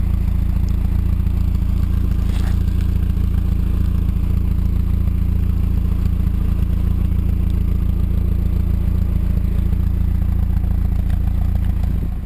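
A Mazda MX5 fitted with an IL Motorsports exhaust idles outdoors, a deep, steady low rumble with a slight mechanical clatter, holding an even, unchanging level throughout with no talk.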